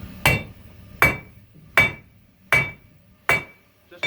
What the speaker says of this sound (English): I switched to a commercial hammer here because it's 4 pounds.